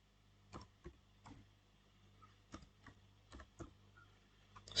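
Keystrokes on a computer keyboard, about a dozen light clicks in an uneven rhythm with short pauses, close and fairly quiet over a low steady hum, no talking.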